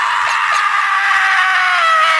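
Bowser Jr., the cartoon character, lets out a loud, sustained high-pitched scream that merges into a strained wailing cry lasting about two seconds and breaking off suddenly.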